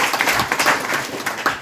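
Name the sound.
applause from training participants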